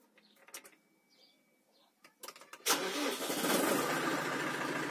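A Massey Ferguson 5430 tractor engine cranks in a few short bursts, then catches and settles into a steady, loud idle running to the end.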